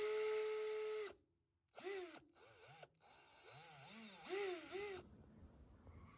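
Bauer 20V Hypermax cordless 1/2 in. drill/driver spinning a drill bit, a loud steady motor whine that cuts out, then several short feathered bursts rising and falling in pitch as the trigger is squeezed and released.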